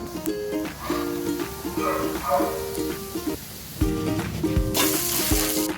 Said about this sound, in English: We need to press the bread to make sure cooked evenly.